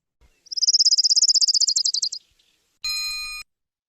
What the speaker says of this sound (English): the orange-crowned warbler sounds like he's running out of steam